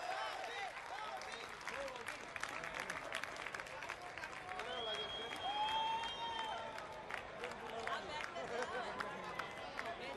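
A crowd applauds with steady, sustained clapping at the inauguration of a new train line in Odisha, India, mixed with crowd noise and voices and a faint whistle-like tone passing through.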